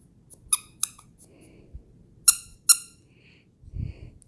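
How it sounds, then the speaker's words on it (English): A squeaky dog toy squeezed a handful of times, giving sharp, high, close squeaks in two pairs over a quiet room, with a soft rustle at the end. "I got a little dog squeaky."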